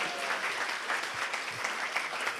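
Audience applauding during a talk, a dense steady wash of clapping filling the whole stretch at moderate level, with no voices over it.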